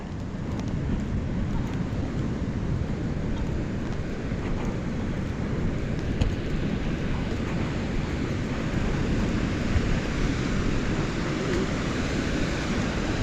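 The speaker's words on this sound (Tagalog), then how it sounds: "Laki ng alon no." Continuous roar of large ocean waves and surf in Zambales, heavy and rumbling, with wind buffeting the microphone throughout.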